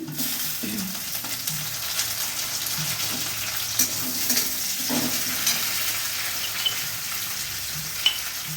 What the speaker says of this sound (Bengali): এবার টমেটো কুচি দিয়ে দিচ্ছি